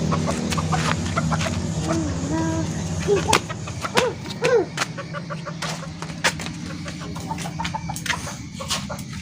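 Chickens in a home yard, led by a rooster, cluck and call at feeding time. Short rising squawks and clucks stand out over a steady murmur of soft clucking, with scattered clicks and scuffing close by.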